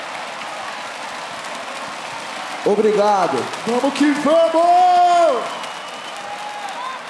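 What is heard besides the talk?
audience cheering at a rap battle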